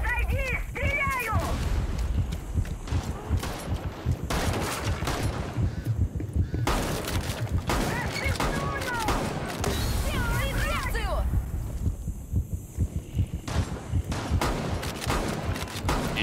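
Gunfire in the Rainbow Six Siege tactical shooter during a heist-style event, rapid repeated shots and bursts running throughout amid busy game sounds, with voices speaking over them.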